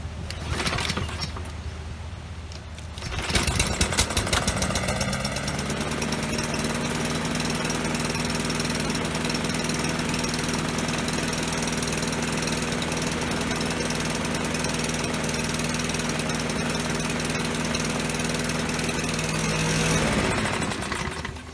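A small Husqvarna pull-start engine idles very low and steady, a close, continuous rough drone after a brief quiet start.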